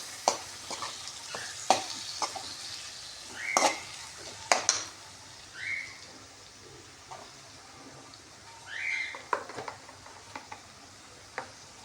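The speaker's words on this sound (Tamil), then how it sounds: "இதையும் வந்து நம்ம நல்லா வதக்கிக்கலாம்." Tomatoes, two of them, sautéing in a pan for tomato rice, with a steady low sizzle broken by several sharp scraping clicks and clinks of a spoon stirring against the metal, close and fairly quiet.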